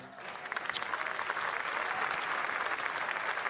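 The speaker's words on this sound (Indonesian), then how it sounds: "mari kita berikan tepuk tangan yang paling meriah untuk iNews Media Group." An audience at a stand-up comedy event claps in a continuous, moderately distant round of applause that swells slightly, with a faint whoop near the start.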